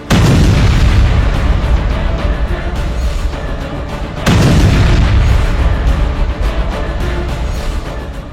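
Houthi missiles strike Tel Aviv with two heavy explosions several seconds apart, each a loud, deep boom trailing into a long rumbling decay, with no voices.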